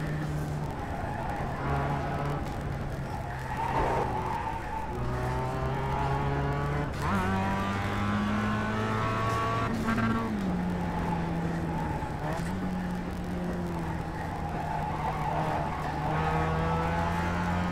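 Tires squeal continuously in the iRacing sim as a race car slides with the front end washing out, a sustained wavering screech layered over a steady engine drone, loud and close throughout.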